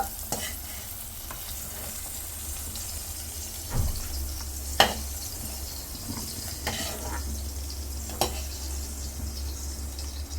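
Green chillies and coriander leaves frying in oil in a pan, a steady low sizzle with occasional stirring scrapes and soft clinks, close and alone without talk.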